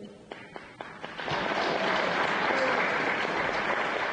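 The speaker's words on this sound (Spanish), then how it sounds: "tenemos que darte un aplauso por este gran esfuerzo" Applause from the audience at a book presentation for a Guatemalan poetry collection swells after a few scattered early claps into sustained, dense clapping that fills the room.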